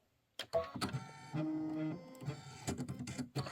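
A Kimberbell embroidery machine starts up and runs nearby, with clicking mechanical starts and stops and a sustained whirring hum in the middle.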